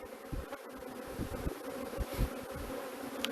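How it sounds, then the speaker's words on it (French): A large honeybee swarm buzzes continuously during its transfer into a nucleus hive, a steady close hum of many bees with scattered louder passes of individual insects. "Ah, c'est un gros essaim que j'ai récupéré."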